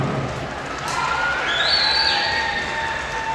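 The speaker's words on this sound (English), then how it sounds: "more big round of applause for Mr. Bob Green." Audience applause and cheering at a Traverse City high school sporting event (Bay Reps vs Central) honoring an Honor Flight veteran: steady, dense crowd clapping with a few sustained whistle-like tones rising over it.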